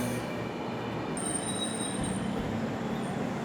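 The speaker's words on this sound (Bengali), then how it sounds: "আমাদের পুরুলিয়া যাওয়ার ট্রেন অলরেডি এসে হাজির হয়ে গেছে" A Howrah–Hatia passenger train stands at a station platform with a steady low rumble and hum, a high metallic whine drifting in and out above the station noise.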